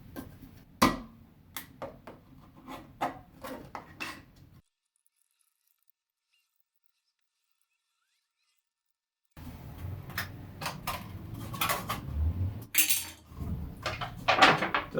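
Scissors cut into a thin aluminum can, giving a quick series of sharp metallic snips and crinkles, close and crisp, stopping for a silent gap partway through before the cutting resumes, busier and louder toward the end.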